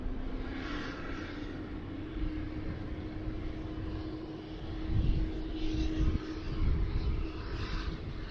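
Airliner at Sydney Airport, a steady engine roar with a sustained tonal hum that swells slightly toward the end, heard from a distance without talk.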